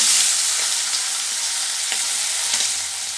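Pieces of fish head frying in hot oil in a pan for a cabbage curry, a loud, close, continuous hiss with occasional faint stirring scrapes.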